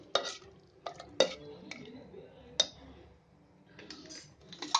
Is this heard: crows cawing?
no